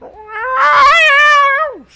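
A cat lets out one long, drawn-out meow, loud and close, rising and holding before falling away at the end, with no talk over it.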